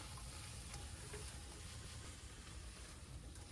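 Vegetables sweating in a pan for Creole jambalaya give a soft, steady sizzle with a gentle broadband hiss, faint and even throughout, with no voices.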